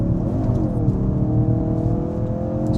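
A Ford Focus RS engine revs hard during a drift mode test, giving a steady, loud, close droning roar with a slight rise in pitch and no break for the whole moment.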